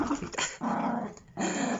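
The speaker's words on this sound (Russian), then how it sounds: "Злая собака." A small Pomeranian growls low and steadily at close range, in two sustained rumbling bursts broken by a brief pause, while guarding a balloon.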